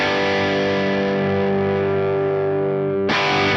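Distorted electric guitar through an Axe-Fx III AC20 amp model, a sustained chord ringing and slowly decaying, then a fresh strum near the end, loud and alone.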